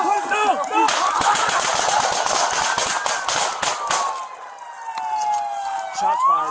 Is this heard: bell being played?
no